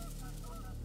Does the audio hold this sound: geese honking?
yes